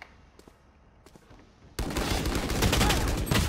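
Submachine gun fire in the video game Valorant: after quiet game sounds, a sudden, loud, sustained burst of rapid automatic shots begins partway through and continues as a dense rattle to the end.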